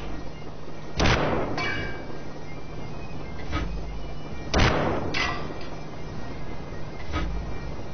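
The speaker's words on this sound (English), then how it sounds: "Fire the missile!" Missile launches in the tank game World of Tanks: two loud whooshing blasts about three and a half seconds apart, each trailed by softer thuds and sharp cracks, over a steady low engine hum.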